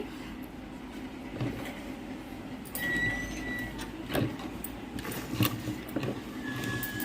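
A sewing machine stitching a normal blouse runs with a steady mechanical whir and rhythmic clatter, fairly close and continuous, with a few louder knocks and brief squeaky tones as the work moves.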